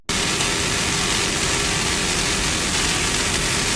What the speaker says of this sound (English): they're all powered by two 500 horsepower Merc Cruiser inboards